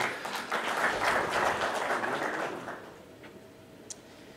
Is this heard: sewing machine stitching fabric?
no